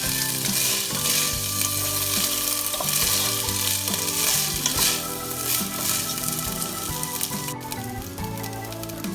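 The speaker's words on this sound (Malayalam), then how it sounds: "ഒരു 2 മിനിറ്റ് നെയ്യിലൊന്ന് ഇത് മിക്സ് ചെയ്യാം." Rice stirred and fried in ghee, a steady close sizzle with scraping stir strokes running the whole time and no talk.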